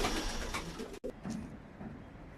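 Ankara Bozkırlı pigeons cooing nearby, soft low burbling calls repeating over a busy background, with a brief dropout partway through.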